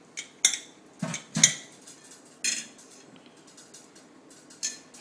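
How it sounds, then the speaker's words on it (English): Beating an egg in a bowl for a cassava cake, heard as several sharp clinks and taps of a utensil against the bowl, irregular bursts separated by quieter scraping gaps. "First, we begin with beating the egg"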